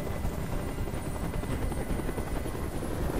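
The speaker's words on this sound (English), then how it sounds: "I can't stand that noise anymore. Tell that helicopter to get out of here." A helicopter hovering overhead in the video game Detroit: Become Human, a loud, steady rotor roar with a continuous low thump, heard alone without talk.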